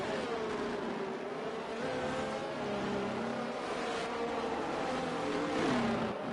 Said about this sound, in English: What a nice view of watching all these cars come around that corner.